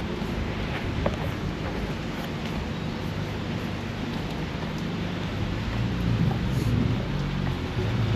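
Steady rain falling on a street in New Zealand, a dense continuous wash with occasional louder patters and some wind buffeting on the microphone, close and constant with no talk.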